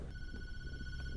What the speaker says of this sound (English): And now we just get a random phone call?